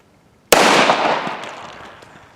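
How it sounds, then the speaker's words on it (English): A single sharp gunshot from a Nagant revolver firing a real bullet at a golf club cracks loudly and close, followed by a long fading echo. "we're going to see what happens if you shoot a real golf club with an actual real bullet"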